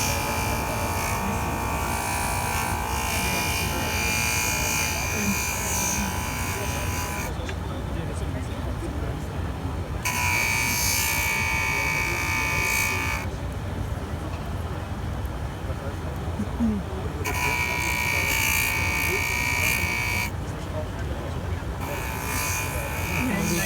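A JOOLTOOL rotary polisher works a scratched watch case at the Inhorgenta jewellery trade show, giving a steady close electric whir that drops and returns several times as the tool touches and lifts, with hall chatter underneath.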